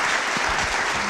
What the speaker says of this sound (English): let's have one round of applause for the great Geim.